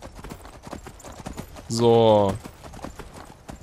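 Horse hooves clip-clop in the Skyrim video game, a rapid string of light hoof strikes running through the whole stretch, with a voice briefly speaking over the middle.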